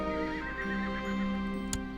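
A horse in Crusader Kings 2 gives a loud, close whinny that holds steady across the whole moment, with a faint clip-clop of hooves mixed in and a sharp click near the end.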